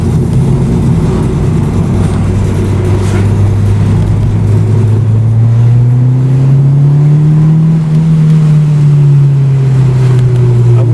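A 1991 Toyota Celica GT-R's naturally aspirated 2-litre inline-four 3SGE engine hums loudly and steadily, then its pitch climbs and dips as it revs, a continuous nearby drone.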